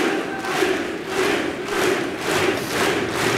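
Crowd at the 2016 Mosconi Cup pool match between Niels Feijen and Mike Dechaine cheers and roars after a tying shot, a dense, loud wall of voices that swells and ebbs in steady waves throughout.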